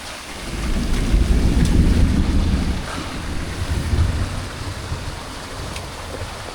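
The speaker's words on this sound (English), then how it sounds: "Thunder." Thunder during a jungle rainstorm, a deep low rolling rumble that swells and slowly fades, with rain hiss and wind noise underneath.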